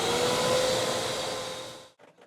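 Vacuum cleaner used while restoring the ceiling of a 400-year-old French castle gives a loud, steady whirring hum that runs for about two seconds, then cuts off abruptly into faint background noise.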